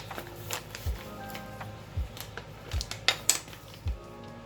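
Tablespoon scooping powder for a capsule maker, a run of light metallic clinks and taps against a container, spaced irregularly with a few sharper knocks, close and fairly quiet.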